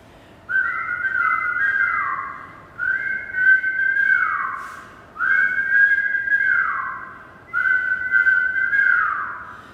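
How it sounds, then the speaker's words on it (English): A person whistles during a kundalini yoga breathing exercise, four long steady whistled tones in a repeating rhythm, each sliding down at the end, close and clear with brief gaps between. "you're going to find that rhythm with your whistle"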